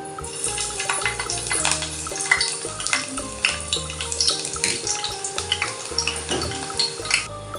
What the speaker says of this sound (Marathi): तेल चांगलं तापलेले आहे, आता आपण लसूण घालूया